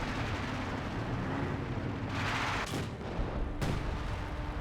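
Mortar fire in Company of Heroes 2: muffled booming impacts and rumbling blasts under a continuous low battlefield din, with a couple of sharper cracks standing out, fairly distant and moderately quiet.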